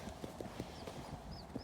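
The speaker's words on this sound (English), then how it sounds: "Horses, amazing creatures." Horse hooves clip-clop outdoors in a quick, faint, irregular patter of soft knocks over low background noise.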